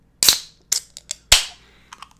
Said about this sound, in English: the sound of that lovely crack when the can opened